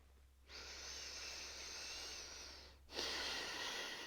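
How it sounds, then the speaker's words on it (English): Slow, close breathing during a gentle yoga session, with one long airy breath that fades and then a second breath that follows. It sounds soft and hissy over a low steady hum, and no one speaks. "Settling in for several breaths."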